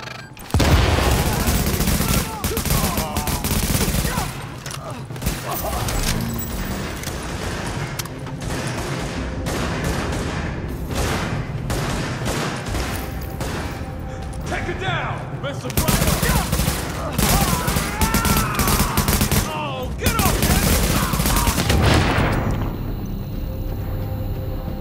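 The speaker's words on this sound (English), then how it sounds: "Party's taking heavy fire from the roof." Heavy rooftop gunfire in The Division, sustained bursts of automatic fire and booms pounding almost without pause for the whole stretch, loud and dense with brief lulls.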